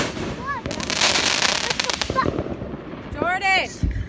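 Fourth of July fireworks burst in a rapid, loud crackling barrage, a dense run of sharp pops and bangs through most of the stretch, with whistling rockets and excited voices over the noise.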